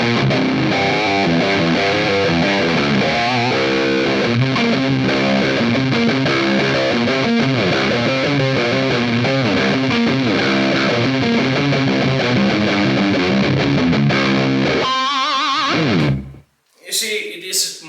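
Heavy fuzz-distorted electric guitar in a prog metal style plays a dense, continuous riff of chugging chords and runs, loud and close, ending abruptly in a brief scrape of string noise.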